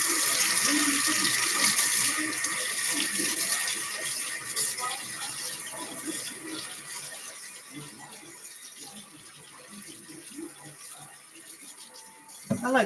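Food rinsed under a running kitchen tap while making spaghetti, a steady close stream of water splashing into a sink, fading slightly in the middle with faint handling noises.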